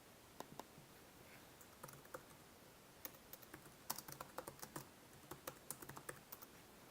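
Computer keyboard typing a layer name, a faint run of light clicking keystrokes in irregular bursts over a quiet background.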